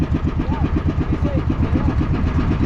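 A motorcycle engine runs close by with a steady, even chugging pulse throughout, loud and uninterrupted, with no clear start-up burst.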